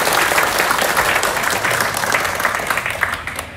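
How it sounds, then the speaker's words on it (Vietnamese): A large audience at a Vu Lan ceremony in a Buddhist hall in Houston gives a big, sustained round of applause, dense clapping holding steady throughout. "Xin cho một tràng pháo tay thật lớn"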